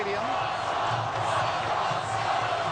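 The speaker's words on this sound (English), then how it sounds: "the cheering is happening here for Ron Paul in the stadium." A stadium crowd of Ron Paul supporters at the Ames Straw Poll cheers and hollers in a continuous loud roar, with scattered shouts and whoops throughout.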